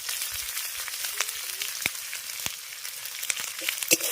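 Turmeric and chili powder fry in oil in a pan for katla fish curry, giving a close, continuous crackling sizzle with scattered sharp pops and spatters throughout.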